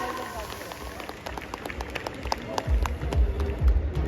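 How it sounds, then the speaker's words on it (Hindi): Audience applause at a business seminar in Kolkata, building from scattered claps into louder, denser clapping with crowd noise over the last second and a half. "एक बार जोरदार तालियां हो जाए सर के लिए।"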